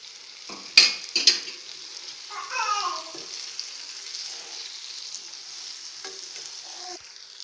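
Egg masala with chilli powder, frying and being stirred in a pan, giving a brief sizzle and a few scraping stirs, then quieter frying with occasional clinks.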